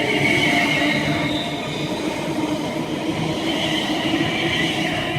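Class 350 electric unit 350-257 departs Crewe on the West Coast Main Line for Birmingham New Street, with a steady close rumble of wheels and traction that holds without a break, and no voices.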